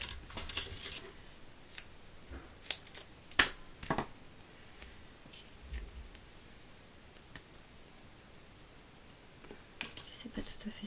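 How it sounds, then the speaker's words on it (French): Scissors snipping 3D foam while making a photography-themed card, a sparse series of short crisp cuts and clicks at close range, scattered irregularly over quiet background with no talk. "Je vais couper de la mousse 3D pour mettre derrière l'appareil photo."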